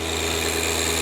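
A John Deere 1025R compact tractor engine strains under load on a dynamometer, a loud, unbroken mechanical drone with a dense buzzing tone that stays level throughout.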